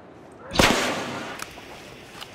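A single sharp report from a distress pistol flare gun in The Long Dark, a loud close crack that trails off into a lingering hiss, with a couple of faint clicks afterward.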